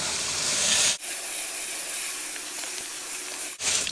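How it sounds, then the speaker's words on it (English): Water hose spraying a greens mower's reel and front roller, a continuous loud hiss of rinsing water that dips briefly twice as the spray shifts. "we're just going to start by doing kind of a general rinse of the reel and the front roller"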